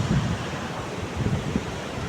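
Arabian Sea surf on the Konkan coast, a steady wash of waves mixed with wind buffeting the microphone, with no talk.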